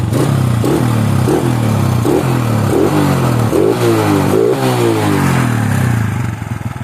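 A 2011 carbureted Honda Wave 125 R motorcycle engine is blipped repeatedly, with about eight sharp revs rising and falling in quick succession over a steady idle. The engine is close and loud, and nobody speaks.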